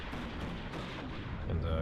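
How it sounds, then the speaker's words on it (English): Artillery in the WARNO war video game, a dense rumbling burst of distant shell fire rolling for under two seconds with a heavier low thump building at the end. "There's the artillery, counter battery on the mortars."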